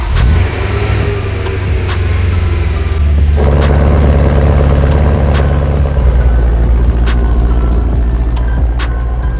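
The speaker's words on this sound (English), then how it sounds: "So right now I'm just letting the car warm up" An Evo car engine runs steadily while warming up, a loud, close, continuous low rumble with a constant drone and no breaks or pauses for the whole stretch.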